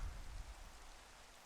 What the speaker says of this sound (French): Ah merde, il pleut.